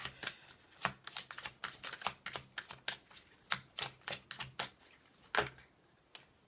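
Fairy oracle cards are shuffled and drawn by hand in a long run of quick, crisp riffling and flicking bursts in an uneven rhythm, close up and quiet, with no talking.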